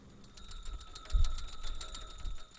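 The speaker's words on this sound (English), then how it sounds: "This is the sound of 50 flags flying in the winds of the West Plains." Fifty flags whipping in strong wind across open plains at a state veterans cemetery, a faint, fluttering rush with small rattling and clinking from the hardware, rising and falling in gusts.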